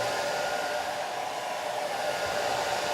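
Steady, close hair dryer blowing over a watercolor painting of a stormy sky, a continuous even whoosh with no voices.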